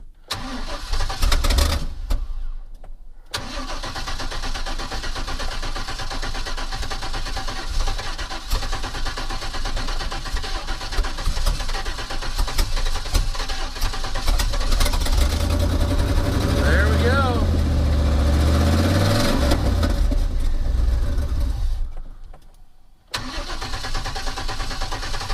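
An auction car's engine is cranked on ether and catches, running loud and rough with a steady roar for most of the stretch, cutting out briefly near the end before restarting.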